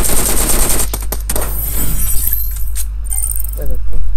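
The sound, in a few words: gunfire in PUBG Mobile video game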